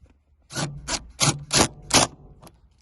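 A ratchet tightens a 10 mm bolt inside the center console of a 2006 Nissan Sentra, giving five quick rasping clicks in a close, uneven rhythm with no talk.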